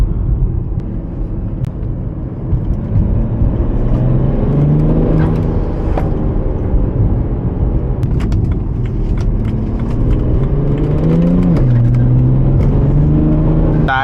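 E90 BMW 335d diesel sedan driven hard on a winding canyon road: a steady, loud engine drone from inside the car that rises and falls in pitch as it accelerates and shifts through curves, with no talking.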